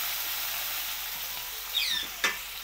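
Chopped onion and tomato hit hot oil seasoned with five-spice and fry with a soft, steady sizzle, with two brief stirring scrapes toward the end and no voices.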